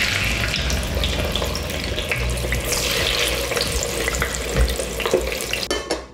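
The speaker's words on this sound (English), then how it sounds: "We're just gonna toss these in and let them fry." Chicken pieces fry in hot oil at 350 degrees, giving a steady, close sizzle with faint crackles and a few stirring knocks near the end.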